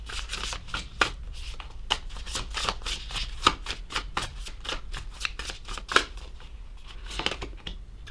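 Tarot cards being shuffled and drawn: a rapid run of crisp, papery riffles and flicks close to the microphone, repeating steadily with a few sharper snaps, with no one speaking.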